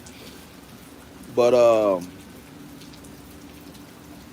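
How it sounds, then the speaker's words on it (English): Steady outdoor rain falls with a soft, even patter of raindrops throughout, while someone briefly says a word partway through. "sitting out here watching little raindrops"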